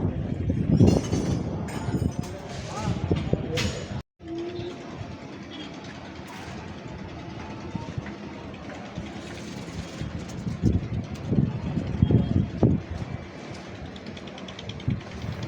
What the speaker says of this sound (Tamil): இப்போ ட்ரெயின் கிளம்புது